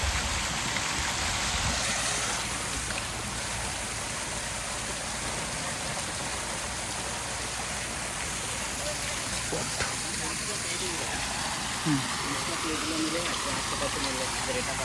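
Waterfall at Rashtrapati Nilayam in Bollaram, Secunderabad, a steady broadband rush of falling water filling the whole stretch, with people talking faintly underneath.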